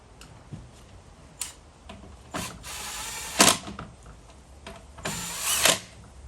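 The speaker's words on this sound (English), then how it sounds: "Now we'll just fit the 3 Torx bolts that hold the cover on." Three Torx bolts are driven into the cover of a Stihl BG86 leaf blower with a Ryobi tool, giving bursts of whirring and ratcheting clicks between quieter pauses of handling, close and alone.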